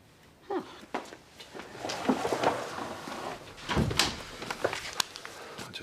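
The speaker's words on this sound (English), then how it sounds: "And close the door." A door is shut indoors amid household movement, several knocks and thuds scattered across a few seconds, one heavier bump near the end.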